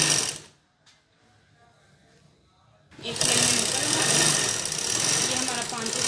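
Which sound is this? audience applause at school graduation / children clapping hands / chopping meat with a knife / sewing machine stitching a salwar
sewing machine stitching a salwar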